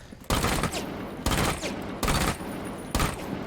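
Rapid bursts of P10 RONI gunfire in Rainbow Six Siege, four loud, close volleys in a steady rhythm, each a short string of sharp shots separated by brief gaps.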